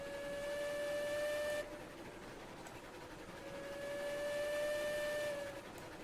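In the game Railroads Online, a steam locomotive whistle sounds twice in long, steady, tonal blasts separated by a short gap, over a low rumbling background.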